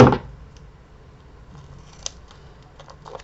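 Scissors snip through craft material for a Halloween artist trading card, a single crisp cut at the start followed by faint, sparse clicks and rustles in a quiet room.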